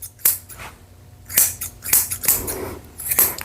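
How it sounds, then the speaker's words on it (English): Curved grooming scissors snip through tangled, matted hair on a Cockapoo or Havanese's beard, four or five sharp metallic cuts spaced irregularly, close and crisp with quiet pauses between. "I'm gonna go back with my curved scissors and round off her beard."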